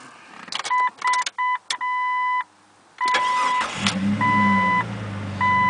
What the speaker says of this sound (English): Let's start her up for a sec.